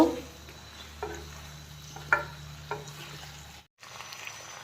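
New potato pieces stirred and frying in a pan for a home-style local chicken curry, a steady close sizzle broken by several scraping stirs, then a brief pause.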